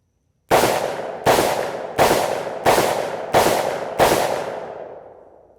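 Six rapid .357 Magnum shots from a Rock Island Armory AL3.1 revolver emptying the cylinder, each a loud sharp crack with a trailing echo, spaced evenly about two-thirds of a second apart, the last ringing out longest.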